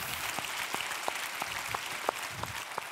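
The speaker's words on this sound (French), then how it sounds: "Voilà, on peut l'applaudir." Applause fills a hall after a piano recital at a national event, a steady wash of clapping with a few louder, distinct claps standing out near the listener.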